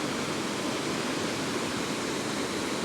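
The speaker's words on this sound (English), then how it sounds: "I believe this is the River Cole." The River Coe in Glencoe flows fast beneath a small footbridge, making a steady, close, full-bodied rush of water that holds constant throughout with no voices.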